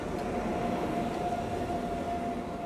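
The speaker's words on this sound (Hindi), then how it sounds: "हमारा लोकोमोटिव जो है ये आप देखो बिल्कुल अब रिवर्सल लेकर के पीछे आ रहा है" Near Gajraula Junction, an Indian Railways WP5 locomotive reverses to couple onto a train, giving a steady, loud low rumble with a faint sustained tonal whine and no distinct impacts.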